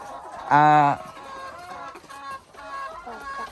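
Laying hens on a farm, one loud, close squawking cluck at the start, followed by softer, scattered clucking from the flock.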